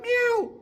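A voice imitates a cat's meow: one drawn-out, close and fairly loud mew whose pitch sags at the end, followed by quiet.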